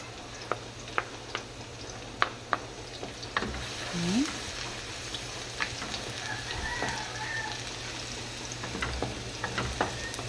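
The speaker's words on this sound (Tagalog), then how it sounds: "Let's saute garlic." Garlic sautéing in a pan, a faint steady sizzle with light scattered clicks and taps, quiet and close, with no talking.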